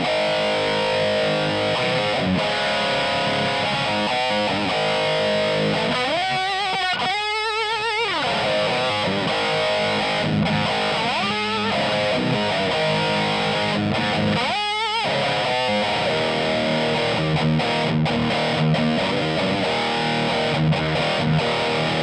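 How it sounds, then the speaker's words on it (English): Heavily distorted electric guitar through a Boss Metal Zone MT-2 pedal with distortion at maximum plays a dense, saturated tone, with a few sliding bends and held chords ringing continuously at high volume. "Here's the distortion all the way up."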